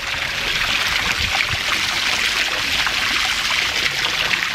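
A camera plunges under water, giving a dense, steady muffled rush and bubbling that continues without a break and without any voices.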